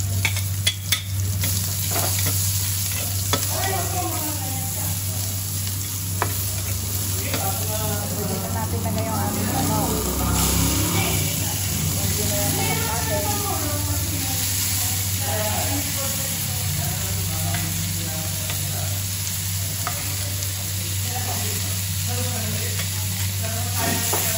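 Onions sizzle and hiss in a pan for Filipino chop suey, a loud, steady frying bed with stirring, while a voice talks over it throughout.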